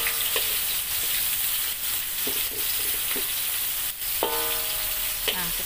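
Food sizzles and fries steadily in a pot while a utensil stirs it, giving several soft scraping knocks and a few clanks against the metal near the end, with no talking.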